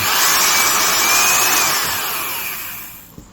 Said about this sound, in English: it is a high speed half-inch drill